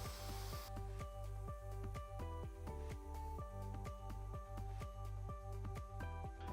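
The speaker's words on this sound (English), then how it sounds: "add some pressure to the tube. Just gonna add enough pressure until the bead seats on the rim" Air pump inflating a tire tube until the bead seats on the rim, a loud continuous mechanical chugging with a fast regular pulse throughout.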